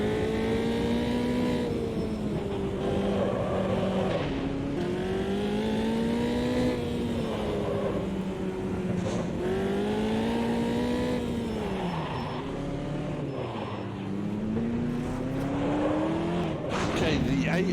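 A race car in the Automobilista 2 sim rises and falls in engine pitch through repeated shifts, with a constant scrubbing tire-skid hiss underneath, close and loud throughout.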